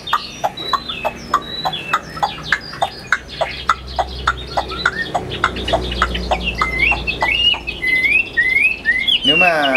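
Clear birdsong from a Chinese hwamei with repeated sharp chirps and tweets in a steady rhythm, fairly close, followed by rising whistled notes near the end.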